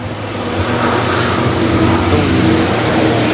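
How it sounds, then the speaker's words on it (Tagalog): A noisy vehicle passes on a highway, a loud, steady broadband roar with a low droning hum that holds through the whole stretch without pause. "ingay naman ang sasakyan na yan"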